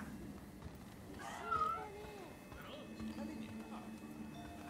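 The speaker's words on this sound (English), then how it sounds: "There's a sleeping calico cat nearby." A calico cat in Rise of the Ronin gives a short, faint meow over a steady game-ambience hum, with a second softer mew shortly after and quiet background sounds throughout.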